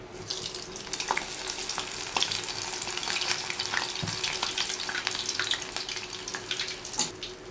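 Gaare vadas frying in hot oil, a dense continuous sizzle and bubbling with small crackles and pops throughout, steady and close.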